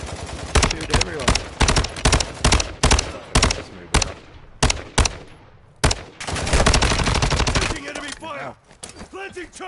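Rapid bursts of gunfire in Warzone 2 DMZ, sharp repeated shots in quick clusters, loud and close, with a longer sustained burst near the end.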